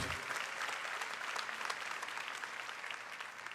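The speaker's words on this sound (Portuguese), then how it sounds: "Você vai aplaudir para o Senhor? Se é para Deus, aplauda com vontade" A church congregation claps for God in steady, dense applause that fills the whole stretch at moderate loudness, with no voice rising above it.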